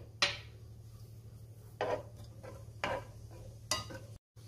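Cashews frying in oil in a home-kitchen pan for a fasting sabudana chivda, with four sharp, separate stirring scrapes spaced about a second apart over a steady low hum and faint background sizzle.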